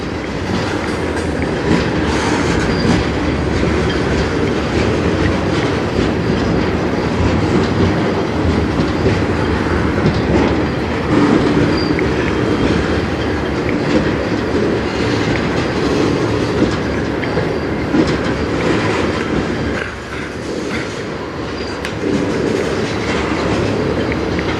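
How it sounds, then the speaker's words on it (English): A CN freight train rolls slowly past on the Strathroy Subdivision, close and loud, with steady rumbling railcars and clickety-clack wheels over joints throughout, easing briefly near the end before continuing. "This train always comes in as slow as it goes out."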